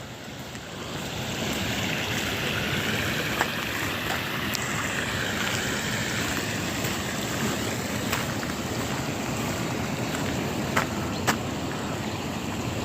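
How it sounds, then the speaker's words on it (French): A small river flows steadily and close by on a January afternoon, a continuous broadband rush of water with wind mixed in and a few faint clicks. "Une petite rivière."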